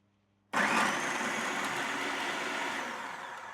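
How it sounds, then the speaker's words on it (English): An electric food processor chopping mushrooms kicks on abruptly after half a second of quiet, then runs as a loud, steady motor whir with a slight sag toward the end. "So now we have the food processor. Let's blitz these mushrooms."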